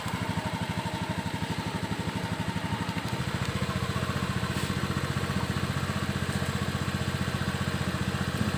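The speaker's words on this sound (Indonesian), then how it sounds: "Sekarang kita coba hidupkan mesinnya" A Honda Beat ESP scooter engine starts and then idles at a fast, high rpm. The steady, rapid putter is close by and even in rhythm, with a slight shift in tone after about three seconds.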